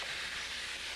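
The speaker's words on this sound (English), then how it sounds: "I'm going to add the Lillet wine. This is going to deglaze the bottom of the pan." Lillet wine hitting a hot pan of browned chicken to deglaze it: a steady, loud hiss and sizzle rises at once and holds without a break.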